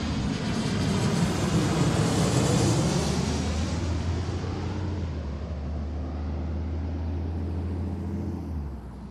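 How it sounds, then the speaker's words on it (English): A Boeing 737-900 jet, an older non-MAX airliner, roars low overhead on arrival at Seattle runway 34L, a loud broad engine rush that peaks early then slowly fades, with a steady low engine drone continuing beneath. "this is a 737-900"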